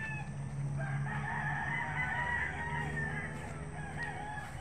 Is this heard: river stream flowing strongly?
no